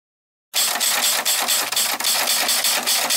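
Auto race motorcycles at the Kawaguchi Auto Race track roar loudly before the start of a semifinal race, a dense pulsing engine buzz that cuts in abruptly after half a second of silence and holds without talk.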